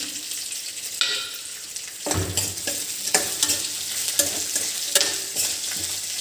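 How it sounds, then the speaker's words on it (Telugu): Cumin seeds are dropped into hot oil for a coriander chutney tempering, setting off a sudden loud sizzle and crackle that keeps going, with a few stirring knocks. "జీలకర్ర వేస్తున్నాను."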